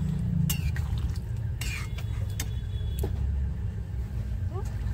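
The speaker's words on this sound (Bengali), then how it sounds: "দিয়ে ভালো করে একটু নাড়াচাড়া দিয়ে দেবো।" A spoon scrapes and clinks now and then in a pan of soybean curry with ground garam masala, over a steady low hum in a home kitchen.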